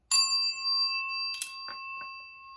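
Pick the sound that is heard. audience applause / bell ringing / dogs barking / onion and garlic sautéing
bell ringing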